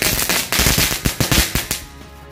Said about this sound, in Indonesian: yang selanjutnya kita sumet mercon Happy Flower Lap Lap Door